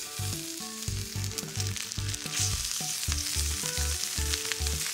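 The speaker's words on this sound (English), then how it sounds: "Can you see how this is already sizzling and splattering on the sides?" Seasoned chicken thighs sizzle and splatter in a very hot All-Clad d5 hybrid pan, a close, continuous crackling fry with rhythmic scraping or stirring knocks running through it and no voices.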